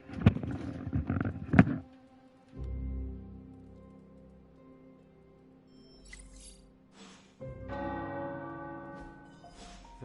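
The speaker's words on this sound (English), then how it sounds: "The tower bells are ringing." Tower bells ring in a few separate struck tones, each leaving a long fading resonance, with quieter stretches between strikes and a fuller peal near the end, moderately distant and alone without talk.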